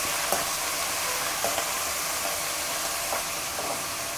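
Manathakkali greens sauté in a pan, giving a steady, dense close sizzle with a few soft stirring scrapes at intervals.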